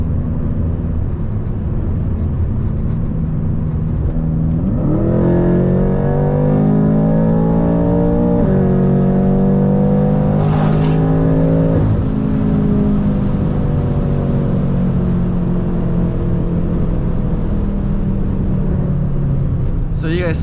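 BMW F10 M5 with a JB4 tune on map 3, running around 18 psi of boost, accelerating hard: a loud, close engine drone climbs in pitch, then drops at a gear shift and climbs again.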